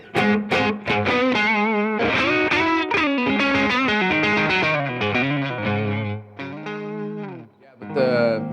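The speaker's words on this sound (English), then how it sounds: "We're just using the new Fender Twin, the Tone Master, and then I've got a couple of pedals like the Pinwheel and the Santa Ana Cool." An electric guitar played through a Fender Twin Tone Master amp with overdrive and effects pedals plays a run of bent, sustained blues phrases close up.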